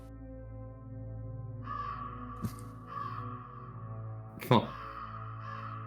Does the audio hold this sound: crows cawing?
yes